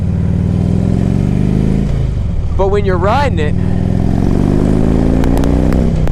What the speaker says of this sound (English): It revs up real nice.